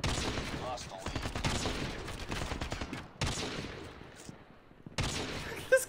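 Rapid gunfire bursts from the mobile shooter game Call of Duty: Mobile, loud and dense in several volleys separated by short pauses, with a voice talking over the shooting.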